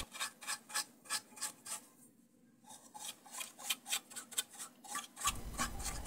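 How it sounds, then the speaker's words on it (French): Dust is brushed off an HP Pro 3500 desktop motherboard in quick, rhythmic scrubbing strokes, close and fairly quiet, with a brief pause midway before the brushing resumes. "Ensuite, je commence à nettoyer la carte mère de la poussière de cette manière."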